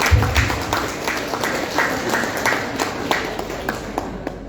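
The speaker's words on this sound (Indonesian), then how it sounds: "Tepuk tangan bapak-bapak" Audience applause at a Temu Kangen gathering of Bank Indonesia retirees in the Bekasi region, a steady wash of many hands clapping throughout, moderately loud and fairly close, with no one speaking over it.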